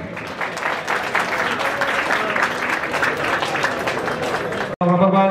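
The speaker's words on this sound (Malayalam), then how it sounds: "കയ്യടി കൊടുക്കണം, നല്ല കയ്യടി." An outdoor audience at a tug-of-war contest claps steadily and loudly for several seconds, dense crowd applause that stops abruptly and gives way to an amplified voice near the end.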